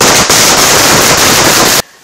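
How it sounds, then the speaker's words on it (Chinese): Celebratory firecrackers set off at a tea appraisal competition event in Ruisui, Taiwan, producing a loud, dense, continuous crackle of rapid bangs that runs for almost two seconds and then stops abruptly. "庆贺的鞭炮声震声玉垄"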